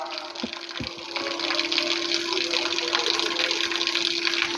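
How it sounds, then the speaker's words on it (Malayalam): Water gushes steadily from a running household motor pump, a dense continuous rush with a low hum beneath it. A couple of knocks come near the start, and there is no speech. "പിന്നെയും വെള്ളം വരാൻ തുടങ്ങി."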